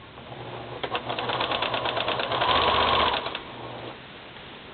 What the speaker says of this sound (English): I've got red thread already in the sewing machine